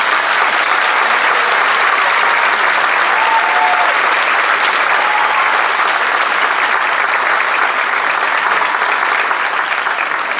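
Sustained applause from a large audience at a middle school moving-up ceremony, a dense steady wash of clapping that holds evenly throughout with no talk over it.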